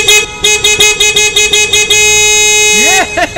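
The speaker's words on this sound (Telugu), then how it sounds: "అసలు ట్రాఫిక్ ఇలా ఆగున్నప్పుడు హార్న్ కొట్టకూడదని తెలియదా?" Car horns blare loudly in a traffic jam, first as a rapid series of short repeated honks and then as one long held blast, with brief swooping tones at the end.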